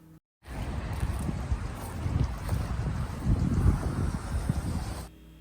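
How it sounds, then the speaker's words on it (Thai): Strong wind roars and buffets the microphone outdoors near the sea beside a government vegetable garden, a loud continuous rumble lasting about five seconds before cutting out. "ต้องขออภัยเสียงลมแล้วก็เสียงรถผ่านไปผ่านมานะคะ"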